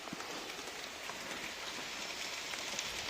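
Heavy rain pours steadily through a forest, a dense, even hiss of drops on leaves and ground with faint scattered patters, no voices.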